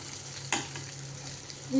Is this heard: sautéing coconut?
yes